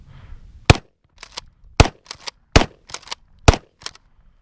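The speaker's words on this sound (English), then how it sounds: "See how this thing does hip shooting?" A Winchester SXP Defender 12 gauge pump shotgun fired from the hip outdoors, five loud sharp blasts in quick rhythm, each followed by quieter clacks of the pump action racking.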